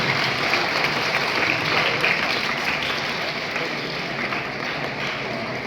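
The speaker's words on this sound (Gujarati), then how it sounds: "આપણે તાળીઓથી હાર્દિક સ્વાગત કરીશું" An audience at a district career guidance seminar held at a school in Botad claps warmly to welcome a guest, a dense steady round of applause that fades slightly toward the end.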